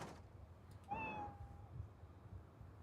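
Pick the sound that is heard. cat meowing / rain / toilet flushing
cat meowing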